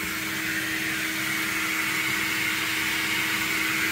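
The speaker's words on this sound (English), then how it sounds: "the Hoover sucking the air out" A Hoover vacuum drawing air out of a sandblasting cabinet, a constant loud whooshing drone with a steady motor whine underneath, unchanging from start to finish and with no talking.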